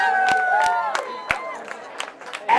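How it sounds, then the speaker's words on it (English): Wedding reception guests at the Wachusett Village Inn applauding and cheering, a short burst of claps and shouts in a room that fades out within a few seconds. "let's give our fantastic staff at the Wachusett Village Inn a nice round of applause"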